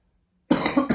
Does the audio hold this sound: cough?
yes